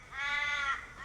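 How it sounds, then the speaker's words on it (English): A single harsh crow caw, close and clear, about a second long and heard alone. "The birds were cawing, warning of unknown visitors."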